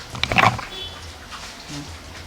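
A native pig gives a short burst of close grunts, followed by a quieter low grunt against faint background noise.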